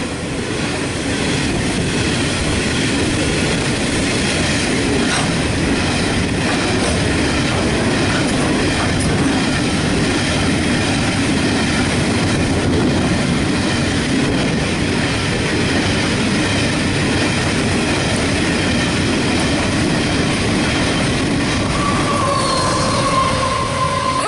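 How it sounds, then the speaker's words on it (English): A heavy stone freight train hauled by locomotives NR54, 4201 and 4490 rumbles steadily past a station platform at Tahmoor at close range, wheels clattering continuously, with a thin metallic squeal rising near the end. "Stone train passing platform number 1."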